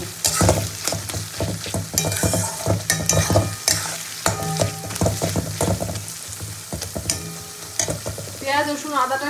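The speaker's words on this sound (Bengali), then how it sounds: "আমি মশলাটাকে একটু কষিয়ে নেব" Spice paste frying in a pan while being stirred, a steady close sizzle broken by repeated scraping and clattering strokes of the spoon against the metal, with no talking.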